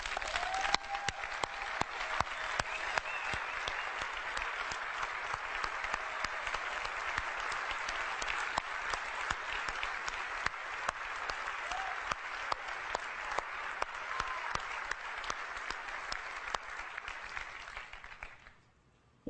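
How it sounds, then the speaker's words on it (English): Sustained audience applause at an Apple special music event in Cupertino, dense steady clapping from a large hall crowd that holds for many seconds then fades out. "I'd like all the folks that worked on these products to stand up so we can give them a round of applause."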